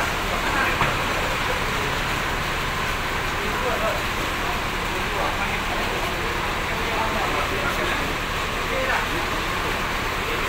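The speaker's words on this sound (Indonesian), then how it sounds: "Tiba-tiba turun hujan deras ini teman-teman." Heavy rain pours steadily onto a bus roof in a continuous dense hiss that stays loud and even throughout, with no clear speech over it.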